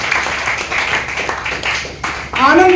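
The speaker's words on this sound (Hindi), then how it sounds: "एक बार जोरदार ताली के बीच में हम आपका स्वागत और अभिनंदन करते हैं।" An audience at an Anand Cricket Academy event applauds to welcome a guest, with brisk, close clapping over a short stretch and a voice rising at the very end.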